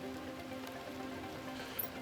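Steady rain in the Planet Crafter video game, a constant soft hiss of drops falling on surfaces that holds evenly for the whole stretch at moderate level, with no talk.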